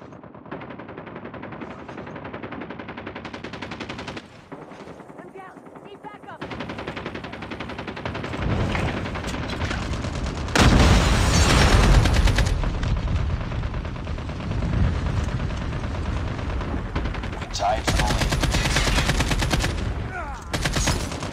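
Ranked team deathmatch in Call of Duty: Mobile with AK-47 gameplay: rapid automatic gunfire bursts in waves, quieter at first and then louder sustained volleys, with short pauses between them.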